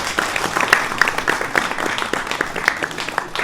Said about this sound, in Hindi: एक बार जोरदार तालियां बजाइएगा